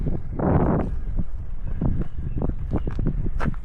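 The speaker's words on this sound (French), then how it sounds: "Si vous m'entendez avec ce vent." Gusty wind on a hike near Alvignac, Lot, France, buffets the microphone in a broad roar, strongest early on, with faint knocks and rustles through the rest.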